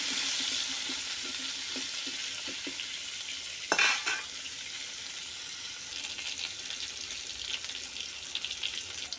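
Crab cooks in oil in a pan for a crab and potato curry, a soft, steady sizzle with light tapping and a brief clatter of utensils midway.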